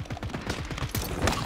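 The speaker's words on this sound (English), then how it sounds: "They're shooting over here." Rapid gunfire from the video game Call of Duty Warzone Resurgence, Modern Warfare 3, bursts of loud shots in fast repeating rhythm with dense overlapping reports, close and continuous.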